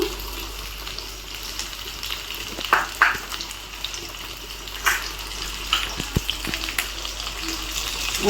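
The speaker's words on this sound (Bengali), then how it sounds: "আলুগুলো আগে সাতলাই দিই।" Potatoes sauté in hot oil in a pan, giving a steady soft sizzle with occasional crackles and pops throughout.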